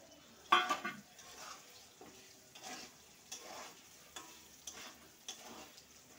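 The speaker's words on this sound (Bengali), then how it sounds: "এই গোবিন্দভোগ চালটা আমি এবার ভাজবো।" Gobindobhog rice being fried with cumin in a pan, a soft sizzle under repeated scraping and clinking strokes of a spoon stirring, close and fairly quiet, with no talking.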